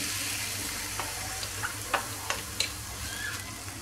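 A steady, soft sizzle of onion frying in olive oil, with a few light clicks and pops scattered across the clip; no voices.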